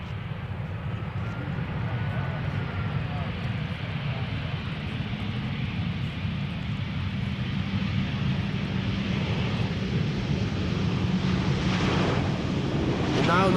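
KLM airliner Orange Pride, flight 792 from Sao Paulo, arriving at Amsterdam Schiphol, a steady distant engine roar mixed with wind noise that builds slightly toward the end.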